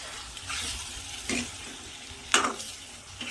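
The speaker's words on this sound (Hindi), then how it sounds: "यहाँ पे मेथी की सब्ज़ी बन रही है, तो मसाले वगैरह डाल दिए हैं" Fenugreek (methi) curry with spices cooking on a home stove, stirred in the pan: a soft steady sizzle with several brief scraping strokes of the spoon, close by, with no talking.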